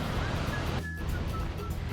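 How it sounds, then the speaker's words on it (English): A Wisconsin waterfall rushes somewhere below a wooded trail, a steady broadband roar mixed with wind noise on the microphone, continuous and moderately loud with no voices. "The waterfalls are right down there. Can you hear them?"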